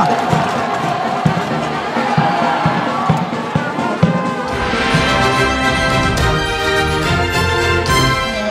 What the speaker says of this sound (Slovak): Nepočujem potlesky. Na meste tleská!